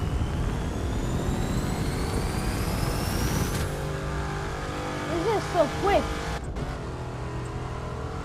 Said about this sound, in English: I love the sound for this car.